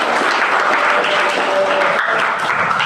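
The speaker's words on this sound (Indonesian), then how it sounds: "Beri tepuk tangan untuk Batik Puspadahana." Applause from a class of schoolchildren in a classroom, steady, dense clapping that carries on evenly for a few seconds with no break.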